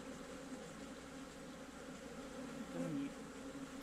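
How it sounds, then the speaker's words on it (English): Steady, dense buzzing of many honeybees around an open hive close by, a continuous droning hum that swells slightly louder near the end. "Well, plenty of bees."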